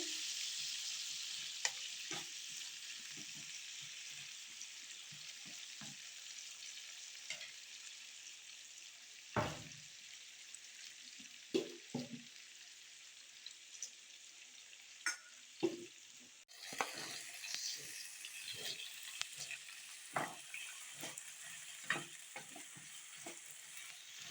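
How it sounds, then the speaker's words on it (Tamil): Curry leaves sautéing in hot oil for an oil-brinjal dish, a steady close sizzle and frying hiss with occasional spoon stirs and scrapes, no voices. "இன்னும் கொஞ்சம் கருவேப்பில கொஞ்சம் நேரம் வதக்கி விட்டுட்டு"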